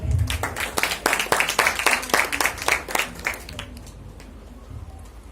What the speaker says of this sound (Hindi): इसके लिए अन्नू भैया के लिए जोरदार तालियां।